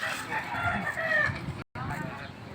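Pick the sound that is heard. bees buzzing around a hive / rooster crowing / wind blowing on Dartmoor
rooster crowing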